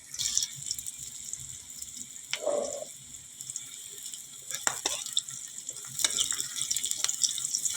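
Onions and green chillies frying in a pan for an egg recipe, a steady soft sizzle with brief stirring scrapes and a few clinks, close and fairly quiet, no talking.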